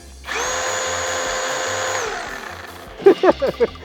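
A Canlidi 21V battery chainsaw with an 8-inch bar runs at a steady high-pitched whine for about two seconds, then winds down; a few short knocks or clicks follow near the end.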